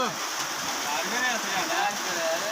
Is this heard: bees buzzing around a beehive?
no